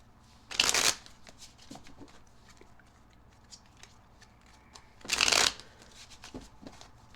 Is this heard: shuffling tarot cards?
yes